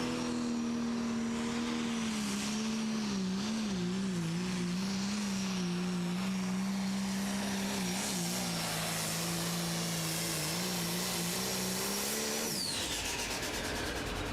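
A John Deere limited pro stock pulling tractor roars steadily down the dirt track at a pro pulling event, its loud engine drone holding for about twelve seconds before cutting off abruptly near the end.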